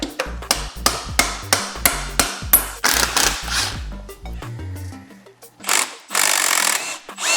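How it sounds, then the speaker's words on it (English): Sharp metallic hammer blows strike car parts in a quick steady rhythm, close and loud, then pause before a few heavier clanks and scraping. "Maybe if you used a hammer."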